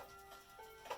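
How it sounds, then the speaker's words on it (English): Wall clocks ticking quietly in the background of a room holding a Japanese schoolhouse wall clock, a faint steady tick with a soft ringing tone, no voices. "Oh, and you could hear some clocks going off in the back."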